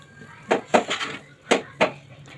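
Paneer burger mixture with bread crumbs being mixed by hand in a bowl, a few distinct clinks and scrapes of utensil against the bowl, close and moderately loud, with soft handling noise between.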